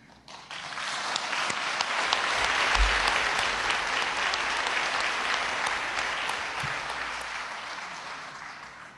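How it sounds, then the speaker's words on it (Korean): Large audience at the opening ceremony of an international conference of women in science and technology breaking into sustained applause, a dense, even roar of clapping that swells and holds steady, lightly fading toward the end. "격려의 박수를 보냅니다."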